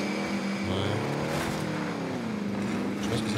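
A nearly wrecked car's engine drones and shifts pitch while driving in the video game Warzone, a loud, continuous motor roar with rising and falling tones throughout.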